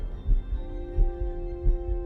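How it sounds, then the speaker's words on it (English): A low, muffled heartbeat sound effect in the game Star Trek: Voyager - Across the Unknown pulses three times at an even, slow pace over a faint humming drone, with no voices. "Oh, I hate that heartbeat"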